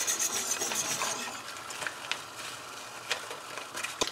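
Sure-Jell pectin stirred into peach jelly coming to a boil on high heat: a spoon scrapes and swirls through the pot with soft rhythmic rubbing, louder at first, then lighter with occasional clinks.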